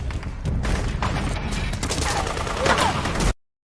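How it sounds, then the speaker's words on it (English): Gunfire from a Metal Gear Solid V game trailer crackles in scattered bursts and thuds over a busy mix, then cuts off abruptly near the end. "MGS4 style of gunshots in the background that you hear"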